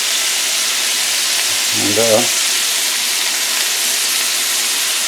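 Seasoned beef browning in a pan, giving a loud, steady broadband sizzle throughout, with a brief spoken word midway.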